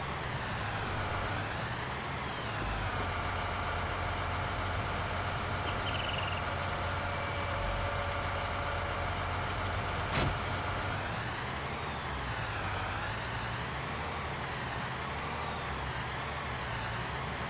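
A tractor engine idles steadily in Farming Simulator, a low, continuous diesel rumble with a faint hum over it and one brief sharp click partway through, and no speech.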